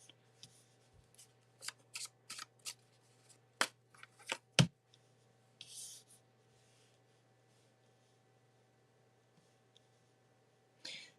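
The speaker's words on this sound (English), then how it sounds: "I'm shuffling." Tarot cards being shuffled by hand, a series of quiet crisp riffles and rustles in bursts over a faint steady hum, with a pause before one last shuffle.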